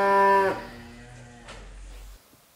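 A cow gives one loud, close moo that drops away after half a second, followed by a faint low rumble and quiet farmyard background, with no talking.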